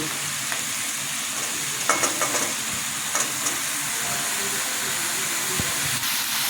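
Eggplant fries in hot oil in a pan, a continuous loud sizzle with a few clicks and scrapes of stirring scattered through it.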